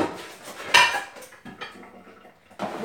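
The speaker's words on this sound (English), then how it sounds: "So we're going to put our seafood in the pan." Shrimp and other seafood placed into a metal pan in an oven-baked seafood boil, producing a short clatter of metal and a sharp clank, followed by a softer scrape and knock, close by.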